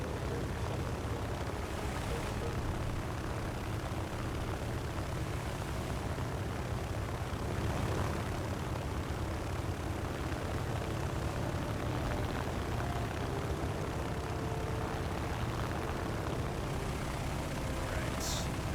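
A CW-21 propeller fighter in the War Thunder flight game drones steadily at full power while leveling off, a continuous engine roar with a faint voice talking beneath it.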